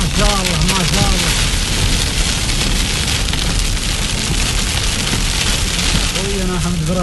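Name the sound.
heavy rain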